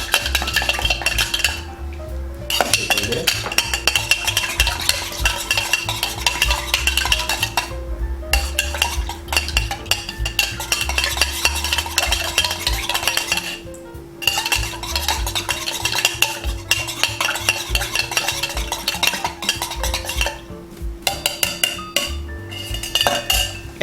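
Spoon stirring ginger and grapefruit in a glass for a gin cocktail, a continuous run of quick scraping swirls and bright metallic clinks, close up, with brief pauses and no talk.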